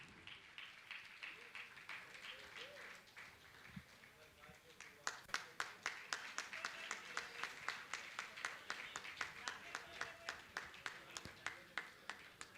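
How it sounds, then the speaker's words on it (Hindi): Applause from an audience at a Jain religious gathering at Gunayatan, Shikharji, where a hall inauguration is marked; scattered clapping at first swells at about five seconds into steady, loud, rhythmic unison clapping. "आप जोरदार ताली बजाएंगे"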